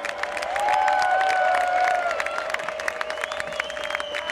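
A festival crowd at Kieler Woche 2006 claps and cheers loudly for the organiser during a band's show, the applause swelling then holding steady under a sustained whistling tone.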